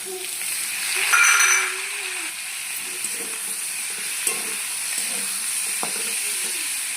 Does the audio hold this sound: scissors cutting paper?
no